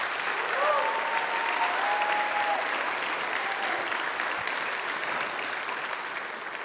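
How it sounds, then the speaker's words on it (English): A school auditorium audience claps steadily for an eighth-grade graduating class, a dense, sustained round of applause from many hands, moderately near and loud, continuing for several seconds without a break. "can we give this class a round of applause"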